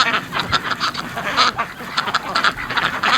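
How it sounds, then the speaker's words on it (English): Several farm-bred ducks, including Muscovies, quack repeatedly and overlapping, a busy nearby chorus of nasal calls with no talking. "The things ducks do."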